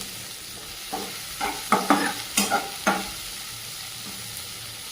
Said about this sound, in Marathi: दोन मिनटं छान परतून घ्यायचं आहे